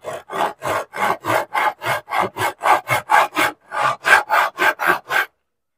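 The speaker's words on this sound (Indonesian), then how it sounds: "Di setiap garis kita gergaji sedikit guys ya." Rhythmic back-and-forth strokes of a hand saw biting into scrap wood along marked lines, about twenty even rasping pulses, close up, then silence.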